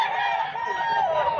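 A wide pelso gamecock crowing at a poultry market, a single drawn-out call heard close and clear over a faint bustling background.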